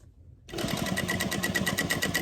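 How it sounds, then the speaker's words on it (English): A sewing machine starts abruptly and runs fast while back stitching a tote bag, a close, even rapid chatter of needle strokes with a steady mechanical whir. "my back stitch. Just a tiny stitch here."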